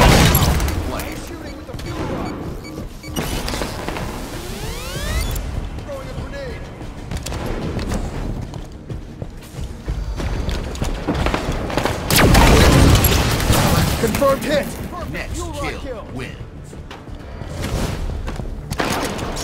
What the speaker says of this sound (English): Shooting with the fuel rod. Throwing a grenade.